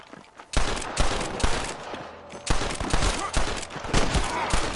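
Rapid gunfire in the Red Dead Redemption video game, a loud, dense fusillade of overlapping shots in bursts with brief lulls between them, close and heavy throughout.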